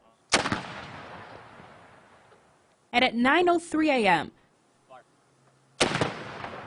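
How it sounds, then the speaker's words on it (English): A ceremonial cannon fired by ROTC students booms twice, each sharp blast trailing off into a long echo, with a voice speaking between the shots. "ROTC students shot off a cannon signifying each plane that struck the World Trade Centers."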